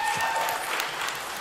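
A live audience at the Clotheshorse podcast taping applauds steadily in a dense wash of clapping that holds at an even level for its whole length, with no talking over it.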